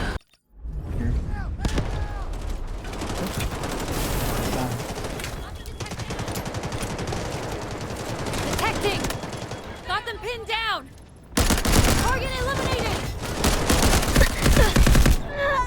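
Gunfire in the video game Delta Force with a Mini-14: rapid, loud volleys and cracks packed closely together, a short quiet gap, then renewed heavy firing, with someone speaking over parts of it.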